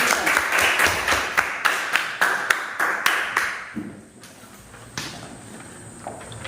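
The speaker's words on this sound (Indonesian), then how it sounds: "Tepuk tangan dulu" Classroom students clap together at the teacher's prompt in a short burst of sharp, rhythmic claps that fade out, followed by quiet room tone with a few scattered taps.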